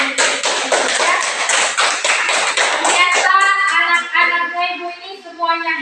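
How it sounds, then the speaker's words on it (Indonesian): A class of children claps hands together in quick, steady beats for about three seconds, then sustained voices take over. "Sekali lagi kita tepuk tangan."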